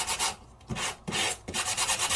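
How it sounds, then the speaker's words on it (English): Sandpaper rubbing across color core cardstock, several short rasping strokes back and forth, close and fairly quiet, with no talking. "But then we need to sand."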